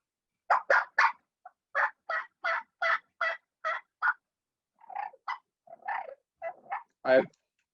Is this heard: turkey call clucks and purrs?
yes